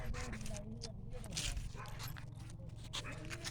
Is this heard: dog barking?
yes